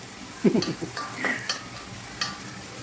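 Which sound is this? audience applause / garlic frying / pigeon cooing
garlic frying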